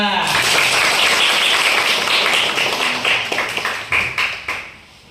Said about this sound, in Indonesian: coba tepuk tangan semua